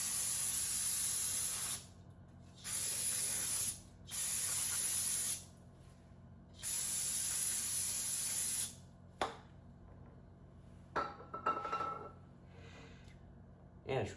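Brake cleaner sprays onto front brake rotors of a 1986-1994 Toyota 4Runner or pickup in several loud, hissing bursts of one to three seconds, with short pauses between them. Quieter clicks and handling noises follow, and a voice is faintly audible.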